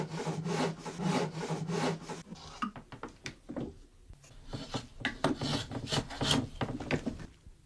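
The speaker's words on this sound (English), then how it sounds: "the sound of hammers and blades striking wood blends seamlessly with the rhythms of everyday living" A hand saw and rasp work wood in a traditional woodworking shop, with rhythmic back-and-forth rasping strokes close up, followed by irregular scraping and shaving bursts.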